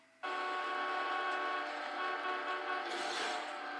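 A car horn in the racing game Need for Speed blasts as one long, loud, unbroken honk that starts abruptly and holds for several seconds with no speech over it.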